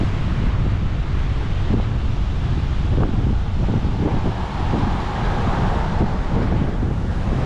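Strong wind buffets the microphone on Flagler Beach on Florida's east coast during Hurricane Idalia, a loud continuous roar blended with crashing surf and no talking.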